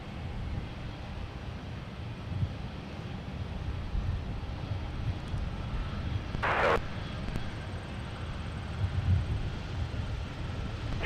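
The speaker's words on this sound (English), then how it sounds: "I believe that's one of the Target corporate jets" A Target corporate business jet at Minneapolis airport, its engine a steady low rumble heard at a distance through wind noise, with a short sharp burst partway through.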